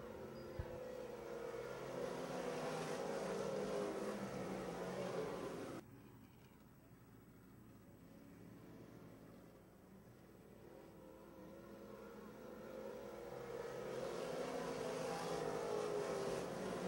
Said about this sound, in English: Ballard will drop behind him and watch Roberts and Whitmoyer rocket down the backstretch.